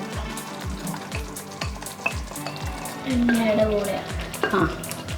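Chicken pieces for butter chicken frying and being stirred in oil in a pan, a close, steady sizzle with repeated scraping strokes of a spoon at a regular rhythm and occasional clinks.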